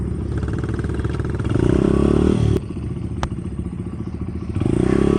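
Dirt bike engine droning loud and close while riding in a pack, a steady buzzing roar that swells and drops as the throttle changes, with occasional clatter from the rough trail.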